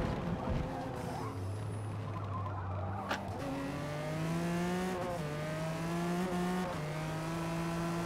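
Race cars circle a Le Mans track in an R-class racing video game, one of them a Skyline, with a steady engine drone that climbs and drops in pitch through gear changes. It stays close and continuous, with no talking.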